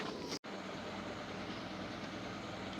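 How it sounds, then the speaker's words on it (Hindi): A train arriving at Khanpur railway station at night, a steady broadband rumble of rolling stock heard from on board, interrupted by one brief cut near the start. "खानपुर रेलवे स्टेशन अराइवल हुआ है ट्रेन का"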